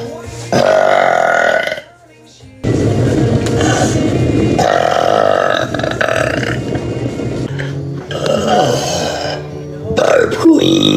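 Loud, long belches made live on TikTok, several drawn-out croaking bursts with a brief pause near the start, each rumbling and close.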